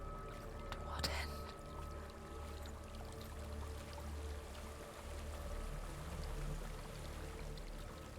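Water flowing along a stream in the video game Hellblade: Senua's Sacrifice, a steady, faint trickling wash lasting throughout, with soft whispering voices and a brief splash near the start.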